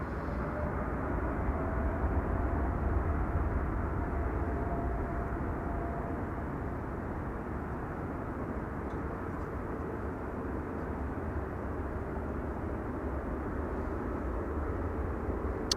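An airliner approaches Amsterdam Schiphol Airport, giving a steady, broad distant roar of jet noise that holds evenly throughout with no voices.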